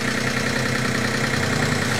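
Steady, low rumbling drone of a cogeneration unit's engine idling at slower revs, loud and even throughout with a constant mechanical hum and no talking.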